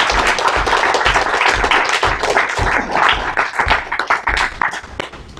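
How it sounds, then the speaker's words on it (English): A seated audience at a high school summer internship presentation applauds steadily, dense overlapping hand claps close and continuous throughout with no speech. "We think we should give him a round of applause."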